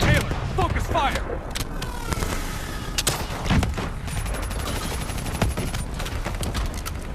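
Rapid gunfire in Call of Duty Black Ops 3 combat, busy bursts of shots layered with game effects and voices calling out through the battle.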